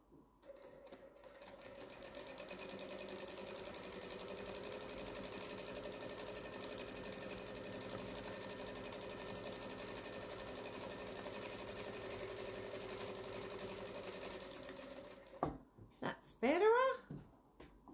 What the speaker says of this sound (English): let's do the top stitch